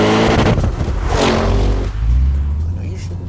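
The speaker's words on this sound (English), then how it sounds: "The one thing, for some reason, that Audis do really, really well is tap off the limiter in a dramatic fashion." Audi RS7 engine revving hard and tapping off the rev limiter, a loud, close, continuous roar with a rising sweep that cuts and drops back.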